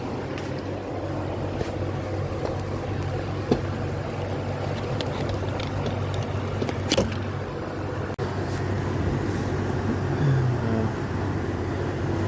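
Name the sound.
Honda Odyssey engine running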